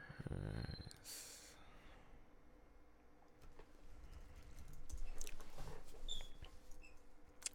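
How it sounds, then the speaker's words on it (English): Keys clatter in irregular bursts as code is typed on a computer keyboard nearby, with a loud bump at the start and some breathing and small handling noises. "right now I'm about to type in some code, Rails, new, and then first app"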